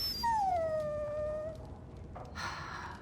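A dog whines in a long, falling, high-pitched whimper in the Dragon Age: Origins fantasy role-playing game, followed by a brief softer whine and a short burst of noise, over a low background hum.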